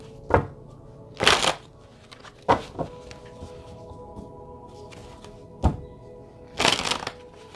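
Tarot cards shuffled and pulled in several short, crisp riffling bursts, close by, with quiet pauses between them and a low background hum.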